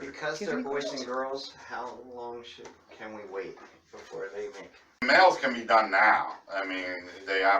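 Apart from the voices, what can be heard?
No everyday noise stands out behind the speech.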